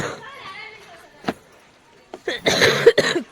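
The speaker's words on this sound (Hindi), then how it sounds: "खांसी खांसी खांसी, कितनी खांसी हुआ है।" Several harsh coughs burst out close by, a few scattered then a quick cluster, with a voice speaking faintly in between.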